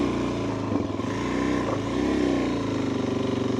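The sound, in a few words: motorcycle engine riding up a gravel hill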